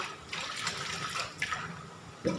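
Herbs and vegetables such as lemongrass, kaffir lime leaves and chilies washed in water, making a continuous close splashing and sloshing, with a heavier splash at the end; nobody speaks.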